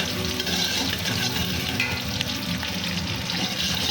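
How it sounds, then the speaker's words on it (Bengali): Onions frying in oil for a biryani, stirred continuously in the pan, giving a busy, even sizzle with scraping and crackle up close. "পেঁয়াজটা ভাজা হয়ে গেছে"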